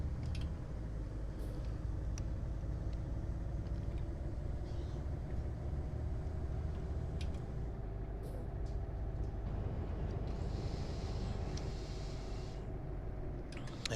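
Busy road traffic in Euro Truck Simulator 2 approaching Reykjavik in Iceland produces a steady low truck engine drone with passing vehicle whooshes and occasional hisses, under intermittent talking.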